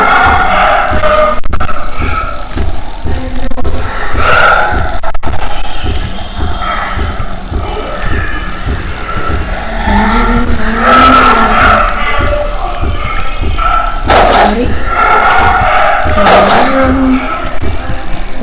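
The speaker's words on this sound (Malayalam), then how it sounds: "വണ്ടിയാണ്" A vehicle in a Chinese horror video game driving with a loud engine drone, tyre skids and squeals, and several sharp knocks across a long stretch, with a voice talking now and then.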